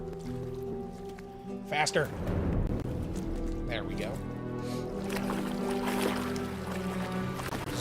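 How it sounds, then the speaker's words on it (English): Splashing and sloshing of a character wading slowly through water in the video game Gothic, steady watery movement running under a voice as he talks. "Alright, time to wade through the water slow as hell."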